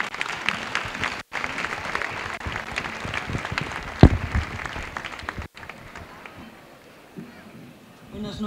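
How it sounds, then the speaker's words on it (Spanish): Audience at the San Antolín 2014 town festival proclamation in Medina del Campo applauding the mayor, a dense, sustained clapping from a large crowd that thins toward the end, with a sharp thump partway through. "Un aplauso para ella también."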